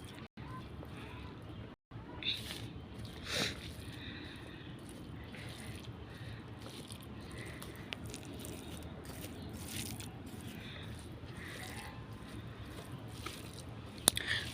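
Close, quiet eating sounds from a meal of hot rice, fish curry and spicy okra fried in oil, with soft wet chewing and occasional bites over faint background noise.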